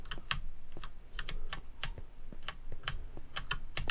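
Rapid, uneven keystrokes on a computer keyboard during a Minecraft LAN party session, a steady run of close clicks and taps continuing throughout with no talking.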